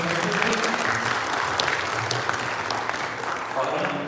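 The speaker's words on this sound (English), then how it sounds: "Please give yourselves a big round of applause." Sustained audience applause at a live quiz event in Dubai, a dense wash of clapping from a crowd that holds steady for several seconds, with a few voices underneath.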